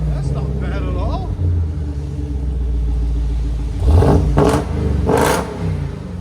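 Jeep Trackhawk with a supercharged 6.2L V8 idling, a loud, steady low exhaust rumble with a brief rise in engine noise near the end; a voice talks over the start.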